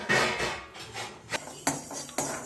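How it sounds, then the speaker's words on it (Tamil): Mustard seeds dry-roasting in a pan without oil, giving a few sharp, separate pops and clicks against a steady background hiss, with no voices. "நல்லா வெறும் எண்ணெய் ஊற்றாம கடுகு கொஞ்சம் பொரிச்சுக்கோங்க"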